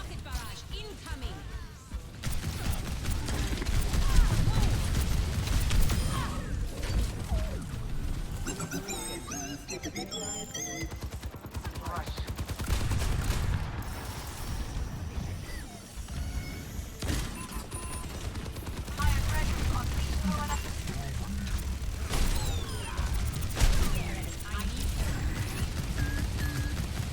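Video game combat with a rocket barrage ultimate and gunfire, dense continuous explosions and shooting layered throughout, with a player talking over the action.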